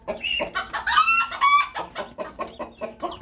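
Muscovy ducklings about two weeks old peep and chirp rapidly at feeding time, a dense cluster of high, bright calls repeating in quick bursts close by, with no talk over them.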